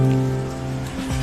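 Steady rain falling outdoors during wet, cold weather, a continuous loud hiss with a constant droning hum underneath and no voices.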